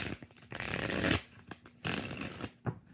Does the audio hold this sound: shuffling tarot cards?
yes